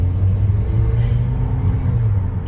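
Steady low engine rumble from a Volvo XC90 T6 SUV driving slowly, a deep continuous drone heard from inside the cabin with no talk.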